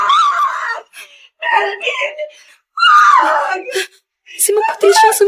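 A woman screams from inside a room, several loud, strained cries in bursts separated by short pauses, close and intense, shifting into wailing, moaning tones.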